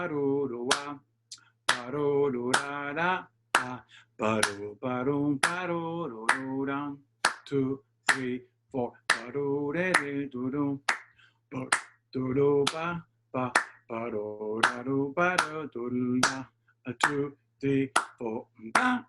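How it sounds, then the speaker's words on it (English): Crisp hand claps beat out a displaced, syncopated rhythm during a rhythmic-improvisation lesson. The claps are spaced unevenly and mix with a voice singing a melody and counting beats. "So now if we sing this melody and clap this rhythm"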